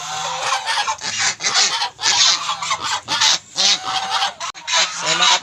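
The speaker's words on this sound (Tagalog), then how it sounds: "Yan din yung mga alagang gansa." Domestic farm geese honk again and again, loud and close, with harsh raspy calls overlapping in quick, uneven bursts and no talking.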